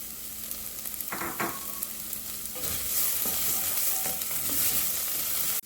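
Garlic frying and sizzling in a pan with onion for tomato basil marinara sauce, a steady close crackle with occasional stirring scrapes that swells louder partway through.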